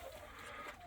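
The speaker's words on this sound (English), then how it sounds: "the birds are enjoying the straw, making a mess out of it" Chickens scratch and cluck faintly in straw on a farm, a brief, quiet, steady rustle of birds with no talking.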